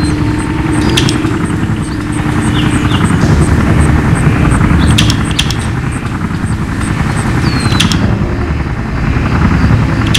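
Steady, loud helicopter rotor thrum from the video game Life After, with fast low-frequency chopping running without pause, a faint high whine and occasional sharp clicks above.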